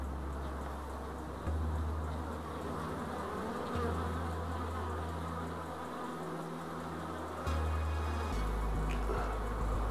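Bees buzz steadily close by, a continuous droning hum with shifting pitch as individual insects move near and away, with no talking.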